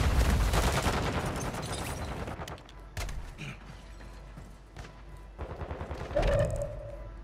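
Gunfire in a Warzone match, a loud stretch of rapid shots at the start followed by separated sharp reports and mechanical clatter, with another burst near the end.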